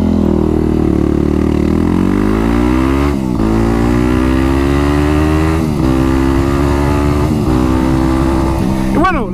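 A Tekken sport motorcycle engine roars loudly throughout, its pitch rising and falling as it revs and shifts, with brief dips before a final upward whine.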